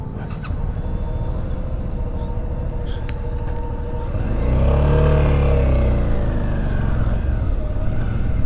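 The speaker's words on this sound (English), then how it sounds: "I don't see two guys, I see two cars coming" Two cars approach along a rural road in Maine, their engine and tyre noise swelling from around four seconds into a loud, close pass over a steady motorcycle engine drone.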